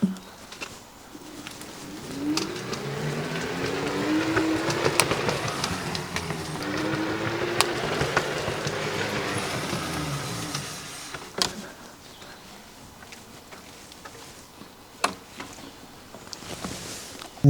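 A Kukirin G2 electric scooter pulls away from a standstill, its motor whine rising steadily in pitch for several seconds before easing off, with outdoor ambience and a few sharp knocks afterward.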